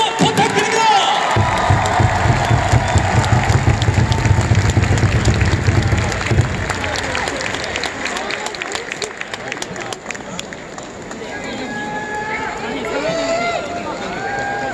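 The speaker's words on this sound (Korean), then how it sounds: "여러분 큰 박수 부탁드립니다" A large crowd at an LG Twins home-opener baseball game applauds and cheers continuously, a dense roar of clapping with a booming announcer voice at the start.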